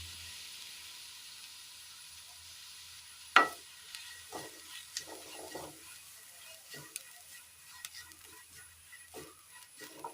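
Garlic and grated coconut frying in hot oil in a Kerala kitchen, a steady soft sizzle with occasional stirring clinks and scrapes of a spoon against the pan, fairly quiet and without talk.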